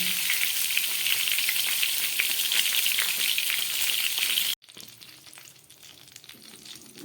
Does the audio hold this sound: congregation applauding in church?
no